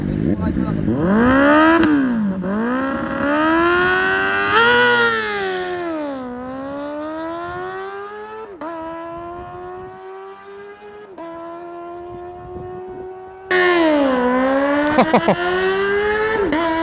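Yamaha Aerox SP and Honda Click 160 scooter engines revving hard in repeated rising and falling runs, loud and close, with a sharp jump in revs near the end and people talking over them.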